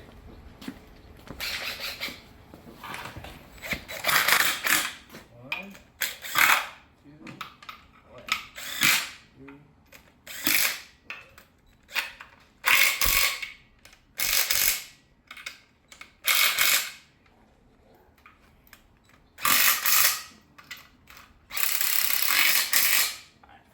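Ratchet snugging up a bolt on a 1993 Ford Ranger transmission during an LS swap, bursts of rapid clicking in repeated strokes with short pauses between, close and fairly loud.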